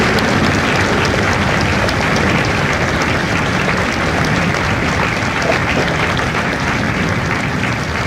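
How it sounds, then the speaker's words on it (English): Large audience at an MCRD San Diego Marine recruit graduation ceremony applauds veterans in the crowd, sustained loud, dense clapping with faint crowd noise throughout. "Ladies and gentlemen, a round of applause for their dedicated service to corps and country"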